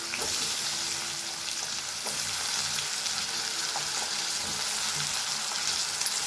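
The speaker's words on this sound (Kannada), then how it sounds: "ಇದಕ್ಕೆ ಇವಾಗ ಹಸಿರು ಬದನೆಕಾಯಿ ಹಾಕ್ತಿದ್ದೀನಿ." Green eggplant and peas frying in oil in a pan for a vangi bath, a continuous close crackling sizzle with occasional stirring scrapes and no talking.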